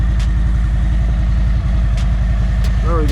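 Harley-Davidson motorcycle engine idling as it warms up, a steady loud pulsing rumble close by, with someone talking over it.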